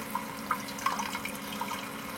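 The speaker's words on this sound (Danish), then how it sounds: "Der er rindende vand." Steady trickle of running water from the small tap of a Combi-Camp Valley camping trailer, a continuous close wash with a few light splashy drips and no talking.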